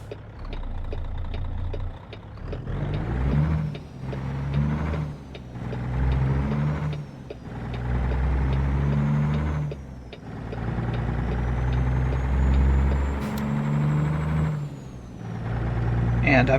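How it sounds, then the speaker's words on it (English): A heavy truck with a 600 horsepower King of the Hill engine in American Truck Simulator revs up repeatedly through its gears, with each climb broken by a brief dip at the shift, while someone talks over it. "600 horsepower King of the Hill engine."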